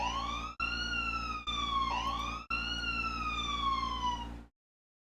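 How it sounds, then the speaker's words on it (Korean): A siren wails in long rising and falling sweeps, loud and close, broken by a few brief dropouts before cutting off abruptly. "그 사이렌 울려가지고"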